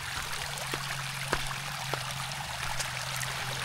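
Water streams steadily over rocks along a trail, a continuous rushing wash at moderate level with no voices.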